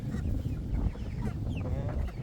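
Chickens in a backyard coop, growing chicks among them, give a few scattered clucks and soft calls at close range over a steady low background hum, with no one talking.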